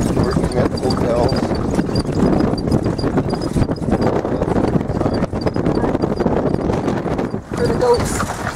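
Horse hooves clip-clop steadily and close during a horse and buggy ride on the road to Guardalavaca in Holguin, Cuba. The even, continuous rhythm carries over rolling cart and wind noise, with voices in the background.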